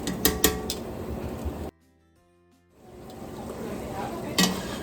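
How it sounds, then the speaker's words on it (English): Red wine braising liquid for short ribs bubbles and sizzles in a pan after deglazing, with utensil clinks; the sound cuts out briefly to near silence, then the simmering hiss returns and builds. "we'll bring this up to a simmer and reduce it down by half"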